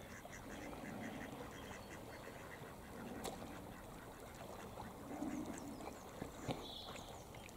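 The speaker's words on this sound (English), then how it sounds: "And there go the ducks." Ducks quack close by on open water, with several calls overlapping in irregular bursts over a low steady background, with no talking.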